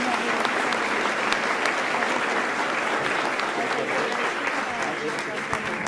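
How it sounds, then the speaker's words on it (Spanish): An audience at an engineering programs network gathering gives the panelists a loud, sustained round of applause, thick continuous clapping with scattered voices mixed in throughout. "Quiero pedir un gran aplauso para los panelistas que bien se los merecen."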